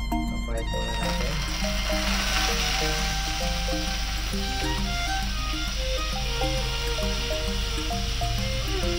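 Pork spare ribs fry in hot oil in a pan, a dense continuous sizzle with crackles and pops, steady and loud throughout, with music playing underneath.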